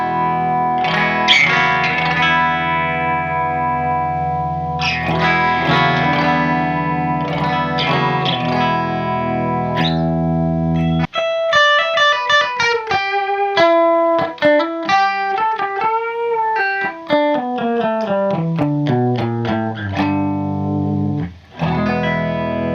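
Electric guitar played through a Marshall Plexi 1987X amp with a clean tone, chords ringing out first, then a run of single picked notes climbing and falling, loud and up close.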